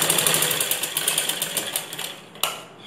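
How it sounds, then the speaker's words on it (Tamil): A sewing machine runs a fast, steady stitch along a ladies' blouse seam, a continuous close whir with rapid needle pulses, ending in a sharp click as it stops. "துணியை திருப்பி விட்டு ஒரு அமுக்கு தையல் போடுறோம்"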